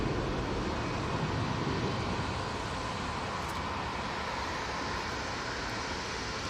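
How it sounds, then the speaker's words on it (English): Steady, loud roar of an Air France A380 airliner at Manchester Airport, a broad continuous engine rumble holding evenly throughout with no talking. "Air France A380."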